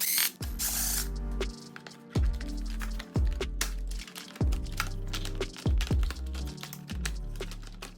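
A ratchet removes bolts from the front cover of a Yozma IN10 dirt bike, giving rapid close clicking bursts in repeated short runs with brief pauses between strokes.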